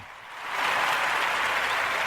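A round of applause on a radio show starts softly, then swells within half a second into full, sustained clapping that continues unbroken to the end, with no talking.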